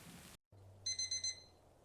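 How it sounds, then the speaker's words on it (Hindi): An alarm clock rings in a house on a rainy morning, four short bright beeping bursts in a quick row after a brief silence, loud and close with no talk over it. "अलार्म बज रहा है हमारा।"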